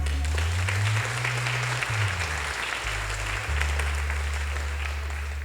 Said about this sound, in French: S'il vous plaît, chaud d'applaudissements pour eux